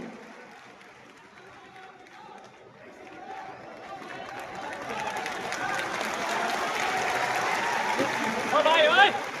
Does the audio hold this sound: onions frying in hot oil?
no